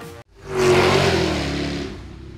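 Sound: Jaguar XKR-S GT car engine revving

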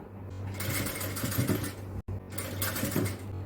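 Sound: sewing machine stitching a designer inskirt

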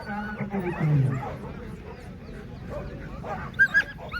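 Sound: female dog barking and whimpering

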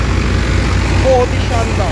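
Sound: tractor engine running in a field

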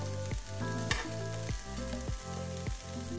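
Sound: meat slowly browning in a pan, releasing fat

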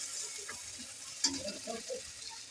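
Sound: spices frying in a pan

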